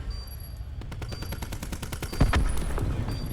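Rapid bursts of automatic gunfire from a Call of Duty esports match at the 2019 CWL Championship, dense repeated shots with a heavier blast near the end, loud and continuous.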